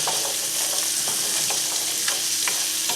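Onions and carrots stirred and sautéed in a pot for braised beef short ribs, a steady close sizzle with repeated scraping stir strokes running throughout.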